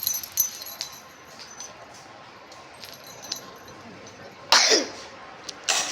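A child coughs at home: a quiet room, then one sharp, abrupt cough burst near the end followed by a smaller second one.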